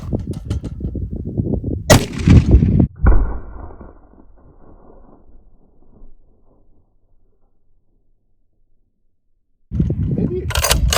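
A .50 BMG rifle round fired into a termite mound gives a sharp, very loud blast that rolls into a long, fading outdoor rumble, with a second crack right after. Voices are heard before the shots and again after a quiet stretch.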